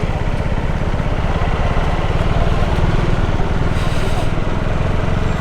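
A motorcycle engine runs loud and close on a rough, waterlogged road, a continuous throbbing rumble at a steady level with no clear cut-out.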